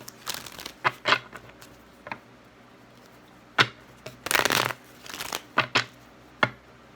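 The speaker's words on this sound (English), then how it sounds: "I'm gonna hear every shuffle." Tarot cards riffle and slap in irregular bursts, with one longer flurry of shuffling midway, close up and without talk.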